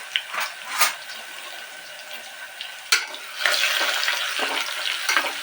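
A spoon stirs a khara pongal tempering with crushed garlic in a pan: soft oily sizzling with several distinct scraping strokes and taps against the metal, growing into a fuller hiss toward the end.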